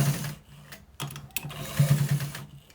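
A sewing machine stitches a white trouser in short, uneven runs, starting and stopping with a few sharp clicks in between.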